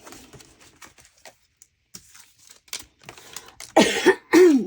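Two loud, harsh coughs near the end, following a stretch of quiet shuffling and small clicks.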